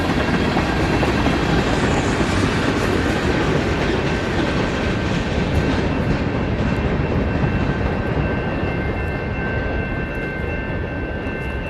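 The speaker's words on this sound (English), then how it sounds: "That was a local train." A local train rumbles past eastbound in Battle Creek, Michigan, continuously, loud and close, with a steady roar of wheels and cars and a faint high whine over it.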